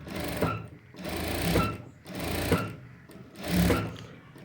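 Sewing machine stitching a blouse lining along thread piping, running in four steady bursts with brief pauses between them, close and fairly loud with no talk.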